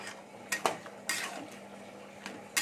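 A utensil scrapes and clinks against a pan while pumpkin-leaf curry with stems, potato and lentil badi is stirred, a few sharp metallic taps at irregular intervals over quiet background.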